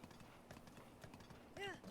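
Horse hooves clip-clopping along a path in Zelda: Breath of the Wild, a steady rhythmic trot heard faintly beneath someone talking, with a brief whinny near the end.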